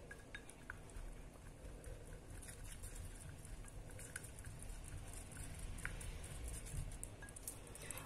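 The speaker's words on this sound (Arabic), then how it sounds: "ثم نقوم بمزجها جيدا مع بعض بهذه الطريقة" Ingredients being mixed together in a bowl make faint, soft patter and light clinks of utensils, quiet and steady with no talking.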